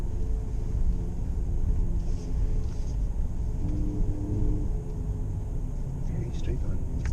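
A 2020 Ford Ranger Raptor crawls over rough terrain in the Philippines, giving off a steady low rumble of engine and suspension noise at close range from inside the cabin, with faint rattles and speech murmuring underneath.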